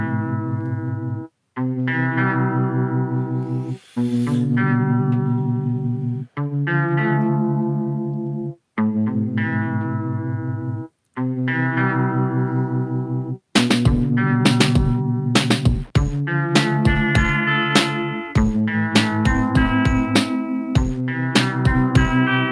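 Lo-fi retro synth track built with Mellowsound in NanoStudio 2 on an iPad: sustained chorused chords in clipped phrases with short gaps, then a busier section with plucky percussive hits and melodic notes layered over the pads.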